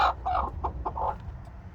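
Chickens squawking from a nesting box in a backyard coop, several short loud clucks and squawks in quick succession, close by, with no talk.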